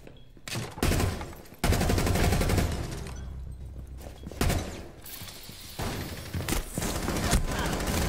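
Gunfire from the Rainbow Six Siege video game, with repeated loud broadband bursts of shooting and mechanical clatter near a hallway doorway, some shots clustered into rapid volleys across the stretch.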